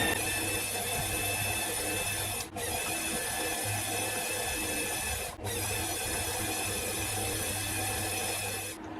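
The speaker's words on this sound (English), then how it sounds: "Time to drill a hole in there." A drill boring a 9mm hole on a milling machine setup: a steady whirring, grinding cut runs for nine seconds with two brief pauses, fairly close and without speech.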